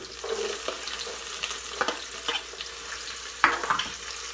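Onion, garlic and ginger sautéing in a pan for chicken kabsa, a steady close sizzle broken by repeated scraping stirs of a utensil against the pan.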